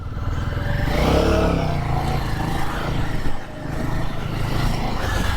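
Royal Enfield Guerrilla 450 motorcycle accelerating through city streets, with a loud close engine drone that rises in pitch, dips briefly, then continues over road and wind noise.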